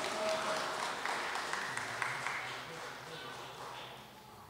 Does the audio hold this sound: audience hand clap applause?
yes